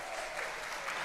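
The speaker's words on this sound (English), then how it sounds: "I definitely will not tell you to hold your applause" Applause from a concert audience at a percussion ensemble performance, a steady, even wash of many hands clapping, heard from a distance and fairly quiet throughout.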